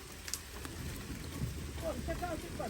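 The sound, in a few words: heavy rain falling on a campsite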